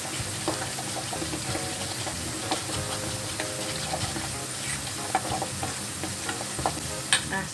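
Potato pieces frying in hot oil, a steady dense sizzle with occasional clinks and scrapes of stirring, close and continuous with no voices.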